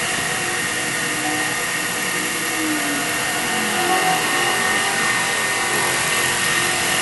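A CNC machine running a test cut gives off a continuous loud whirring drone with a broad hiss and faint shifting tones, steady and close without pauses.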